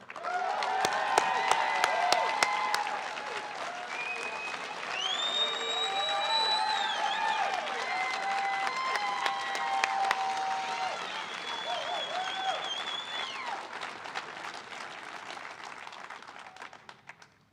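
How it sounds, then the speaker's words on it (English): Audience applause at a graduation ceremony, sustained clapping from a crowd that fills the whole stretch, with tonal music or voices faintly mixed in and the clapping easing off toward the end. "I'd also like to give a round of applause for Cheryl Wells celebrating her 25 years of"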